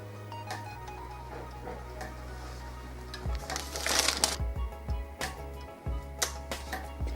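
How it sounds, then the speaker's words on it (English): Tape is peeled off a heat transfer vinyl screen in a series of faint, uneven crackling rips and sticky pulls, with a steady low hum underneath. "Peeling off the tape."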